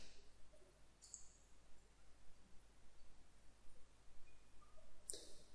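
A computer mouse gives two faint, sharp single clicks a few seconds apart over quiet background hiss.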